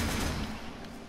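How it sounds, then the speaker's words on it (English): Shotgun fire in the Warframe video game, a dense, loud continuous burst of overlapping gunshots filling the whole moment with no talking. "Shotguns being shot at me."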